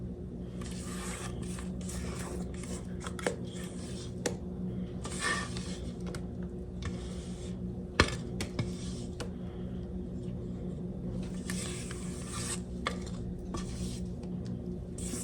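A spatula scrapes cake batter into a greased 9 by 13 pan for crumb cake, with repeated soft scrapes, squishes and light clinks against the pan, close and moderately loud, with no talk.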